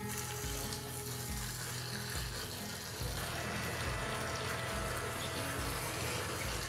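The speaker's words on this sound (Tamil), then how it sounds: "இப்போ இந்த காடையை நல்லா கொஞ்ச நேரம் வதக்கிக்கலாம்." Quail sautéing in a pan gives a steady close sizzle and crackle, with a rhythmic scraping or stirring pulse underneath and no voices.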